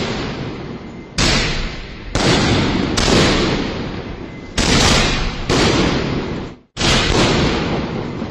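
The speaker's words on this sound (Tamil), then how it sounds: "நைட் டைமில் இந்த வானத்தில் வெடியறதை பார்க்குறதே ஒரு அழகு தாங்க." Diwali fireworks burst loudly in the night sky, seven or so sharp, booming explosions in irregular succession, each trailing into a crackling, hissing decay before the next.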